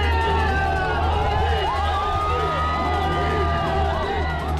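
Dense roadside crowd of onlookers lining the route of the Prime Minister's convoy, a constant close wash of chatter and cheering with a whoop here and there, over a steady low rumble of vehicles.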